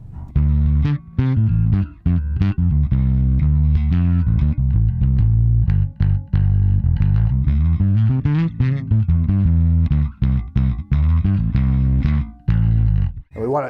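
Heavily distorted, overdriven bass guitar through a Fender Bassman overdrive pedal playing a continuous riff, loud and gritty throughout with no pauses.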